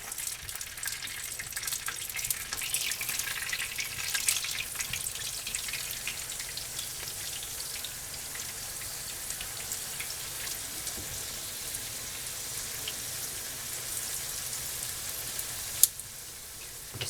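Liquid bubbles and sizzles steadily in a pan of leftover prime rib beef bulgogi, a continuous crackling hiss with no talk.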